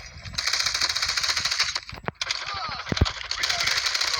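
The Switchblade X9 fires in a video game with rapid automatic bursts of loud gunfire. Brief gaps break the bursts, and a voice talks over the shooting.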